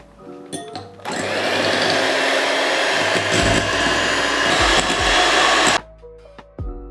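An electric hand mixer whips cream with vanilla and a little sugar, a loud steady motor whine that kicks in after a second, runs unbroken for several seconds, then cuts off, followed by faint bowl clinks.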